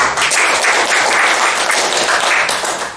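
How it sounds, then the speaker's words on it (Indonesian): Students in a classroom give a round of applause for a classmate who has just read aloud, a close, brisk clatter of many hands that swells briefly and tapers at the end. "Kita berikan tepuk tangan"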